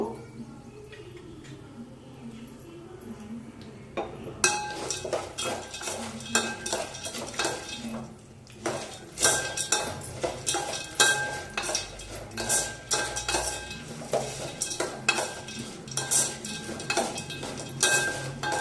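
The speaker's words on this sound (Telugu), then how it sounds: "జీడిపప్పు లాస్ట్లో వేసుకుంటున్నాను ఎందుకంటే ఇది తొందరగా వేగిపోతుంది." Cashew nuts being fried and stirred in a pan for tamarind rice, with repeated metallic scraping and clinks of a spoon against the pan close by, the stirring rhythmic and fairly loud after a brief quieter start.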